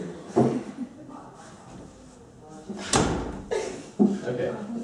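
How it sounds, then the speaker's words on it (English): In a classroom a door is pushed shut with a solid thud midway through, among children's and an adult's chatter and small bumps. "Close the door, please."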